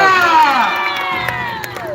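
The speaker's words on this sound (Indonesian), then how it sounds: "Tepuk tangan dulu, tepuk tangan." A crowd at a traditional fighting match cheers and shouts to welcome fighters from North Lombok. The voices are loud and close, with some higher children's shouts rising over a general roar that fades slightly toward the end.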